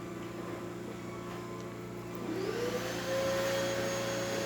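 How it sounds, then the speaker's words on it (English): A Gaggia espresso machine that won't build pressure strains as its pump pushes water through a leaking portafilter, a steady loud drone that rises in pitch and intensity partway through, with a rising whine settling into a sustained tone. "the machine is pushing through even though it's working really hard"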